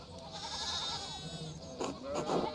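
Sheep in a farmyard in the video game Pentiment bleat twice in quick succession near the end, close and fairly loud over a steady ambient background.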